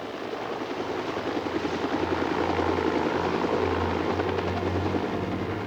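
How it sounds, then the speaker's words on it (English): A medical helicopter lifts off to carry a patient to hospital, its rotor chopping in a steady loud throb with broad engine roar throughout, no voices. "the medical chopper arrived to transport her to the hospital"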